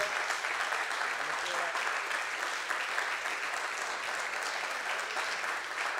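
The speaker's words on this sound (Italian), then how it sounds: "accoglierei con un grande applauso Pietro del Soldà" A seated audience at a book festival applauds to welcome philosopher Pietro Del Soldà, a continuous moderate wash of many hands clapping evenly from start to finish.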